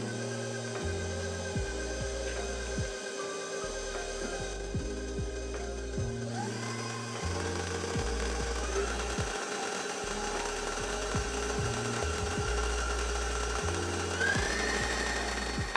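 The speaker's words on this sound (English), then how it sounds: "we're gonna beat this until it is combined" An electric mixer beating peanut butter cookie batter whirs continuously, with uneven, rhythmic thumps and knocks as the beaters work through the thick dough.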